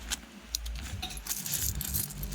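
Coins jingling inside a wallet: bright metallic clinks and rattles that continue as the coins are shaken and handled, close to the listener and with no talking.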